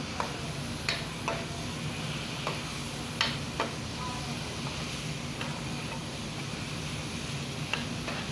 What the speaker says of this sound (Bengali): এই জন্য কলিজা দেখেন তো নেড়ে চেড়ে দিতে হইব।